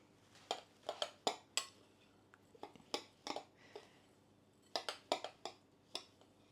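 A spoon clinks and scrapes against a bowl while an almond and linseed cracker mixture is stirred, giving irregular bursts of close, sharp taps with short pauses between them.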